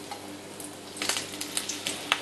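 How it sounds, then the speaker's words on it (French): Tempura-battered scampi fritters frying in very hot oil in a pan, a constant sizzle with sharp crackling pops and a few light utensil clinks, no voice. "Plongez-la dans la pâte à tempura, comme ceci, bien enrobée, et disposez-la dans la casserole très chaude."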